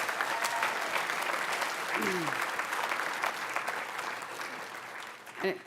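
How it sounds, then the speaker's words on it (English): A convention audience applauds the panelists with steady dense clapping throughout, a brief cheer or whoop partway through, tapering slightly before a short voice at the end. "How about another round of applause for all the panelists"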